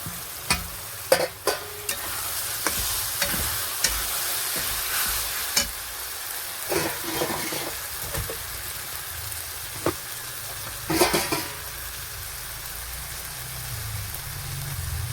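Chopped tomato sizzling in a frying pan for a chicken dish, stirred with a utensil that taps and scrapes the pan at irregular intervals over a soft, continuous fry.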